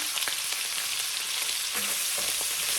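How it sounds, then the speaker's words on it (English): Hot Italian sausage browns in a pan with a loud, continuous frying sizzle that stays dense and even, with a few faint scrapes and no talking. "You want to brown this, just kind of like you did the bacon."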